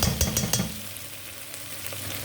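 Pasta with tomato sauce and minced meat is stirred in a pan, a few quick scraping strokes up front and then a soft steady sizzle.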